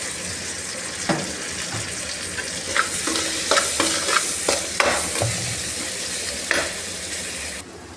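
Asafoetida powder fries in oil in a pan while a spoon stirs and scrapes, giving a steady background sizzle broken by a run of sharp scraping strokes before the sound cuts off near the end.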